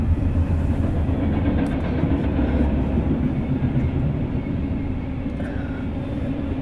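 An eastbound freight train rumbles past at Swanton, Ohio, a loud, continuous low roar of rolling wagons with faint wheel clatter, close by and without talk.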